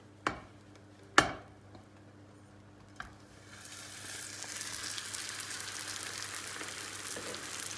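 A couple of sharp clicks and knocks, then a soft, steady sizzle of börek pastry frying over low heat, rising and continuing in a pan.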